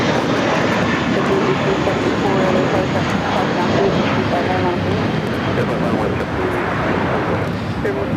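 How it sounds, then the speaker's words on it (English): Airbus A320 airliner engines at LAX roar steadily and loud throughout, a dense broadband rumble with wind buffeting, while voices talk faintly underneath. "Airline Flight 391 heading to Pittsburgh on an A320"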